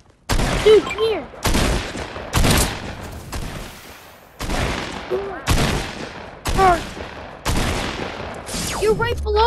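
A hand cannon fires in a video game, about eight heavy, booming shots in an irregular rhythm, each loud and close with a ringing tail.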